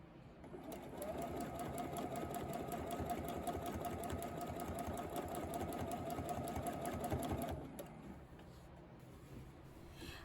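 A domestic sewing machine runs steadily for about seven seconds, a fast even whirring hum while free-motion quilting a clover pattern on a quilt, then stops abruptly, leaving quiet room noise.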